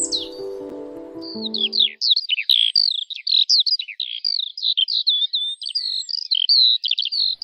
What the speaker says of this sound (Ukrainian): Жайворонок прилетів і весну до нас привів.